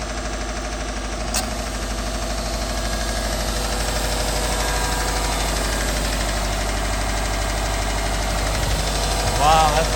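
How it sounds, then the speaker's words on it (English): A 2014 Subaru WRX wagon idling with an engine knock, a steady close rumble with a faint rhythmic clatter running through it for ten seconds; a voice speaks near the end. "you like that knock noise, clack, clack, clack. It's really bad when it first starts up"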